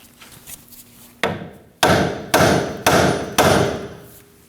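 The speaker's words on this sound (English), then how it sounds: "we're going to use a hammer and strike the knuckle right here" Five sharp metal-on-metal hammer blows on a steel steering knuckle of a 2009-2014 Ford F-150, the first lighter, then four heavy strikes at a steady rhythm, each ringing briefly before the next.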